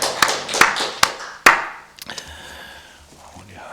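Church congregation at a Wednesday worship service claps hands in a few sharp, separated claps echoing in the hall, then a quieter patter fades into the room's background.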